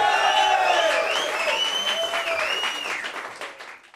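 An audience applauds and cheers for a hip hop DJ at a Melbourne event, loud dense clapping with whoops and voices that gradually fades out.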